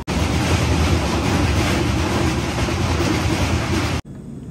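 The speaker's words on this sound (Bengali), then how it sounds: "এই ট্রেনটা কলকাতা থেকে কানপুর যাওয়ার জন্য সব থেকে ফাস্টেস্ট ট্রেন।" An express train runs on rails between Kolkata and Kanpur, its loud, dense rushing roar held steadily up close for about four seconds before cutting off abruptly to quieter background.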